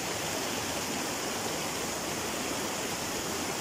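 Flowing water nearby, a dense continuous rushing hiss that holds steady and fairly loud from start to finish, with no audible talking.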